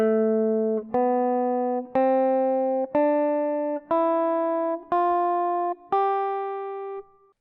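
Ascending G Mixolydian scale notes on guitar, seven clean plucked tones in an even, steady rhythm, each ringing until the next, played alone and close.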